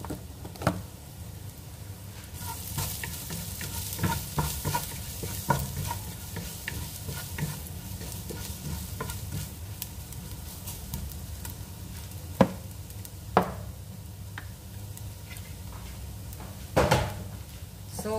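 Black lemon and spices sautéing in a pan for a sour dish, a steady soft sizzle with stirring scrapes and a few sharp utensil clinks, no talking.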